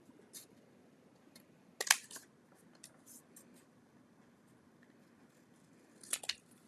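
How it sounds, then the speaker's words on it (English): Scissors snip paper for a scrapbook page in a few quiet, crisp cuts, two of them sharper, with soft handling rustles between them in a hushed room. "I'm going to have to snip this."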